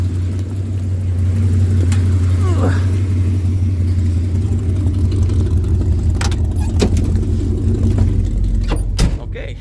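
A 1974 Gran Torino Elite drives around the block, a steady low engine rumble from inside the car with a brief rev and a few clunks, while voices talk over it.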